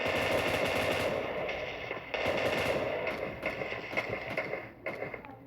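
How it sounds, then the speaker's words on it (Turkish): Gunfire in PUBG Mobile: rapid automatic bursts crackle loudly for several seconds, then break into shorter, scattered volleys with brief pauses between them. "Vuruyor bir yerden."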